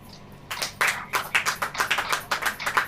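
A church congregation claps hands during a sermon: after a moment of quiet, about a dozen sharp claps follow in a steady, even rhythm, fairly close and with no talk.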